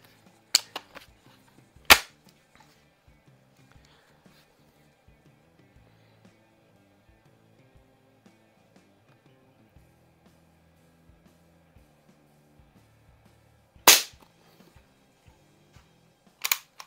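Daisy 753 single stroke pneumatic .177 target rifle firing, four sharp cracks spread unevenly across a quiet stretch, with faint handling sounds between shots.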